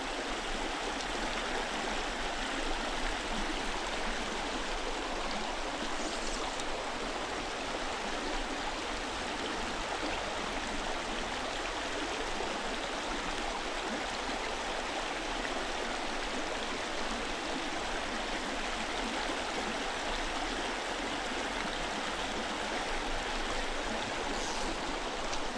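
Tunkhannock Creek, a trout stream, flows past in a steady, close rush of water, broad and unbroken for the whole stretch with no voices.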